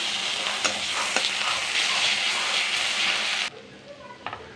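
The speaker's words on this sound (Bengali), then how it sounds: "একটু সাদা জিরে ফোড়ন দিয়ে দিচ্ছি, একটু তেজপাতা ফোড়নও দিয়ে দিচ্ছি, একটু আদা রসুন দিয়ে দিচ্ছি" Cumin seeds, bay leaf and ginger-garlic paste sizzle loudly in hot oil, a steady close crackle with a few sharp pops and stirring, which drops suddenly to a quieter fizz near the end.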